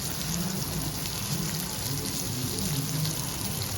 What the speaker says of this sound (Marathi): मासे आपल्याला शॅलो फ्राय करायचे आहेत त्यामुळे तेल थोडंच घालायचं